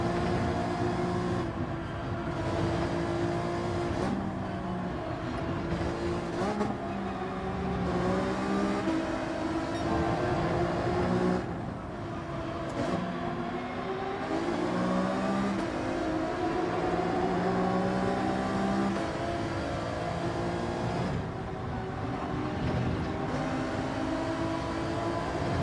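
A race car in Gran Turismo 7 drives continuously with its engine droning, rising and falling through gear changes over a long stretch, loud and steady with no voices over it.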